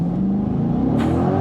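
A 2024 Chevrolet Corvette Convertible launches at full throttle, its engine droning loudly and rising steadily in pitch as it accelerates, with a sudden rush of wind noise joining near the end.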